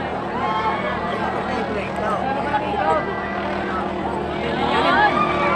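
A racing boat engine drones steadily through a barangay boat race in Luyahan, its low hum running beneath loud, excited commentary for the whole stretch.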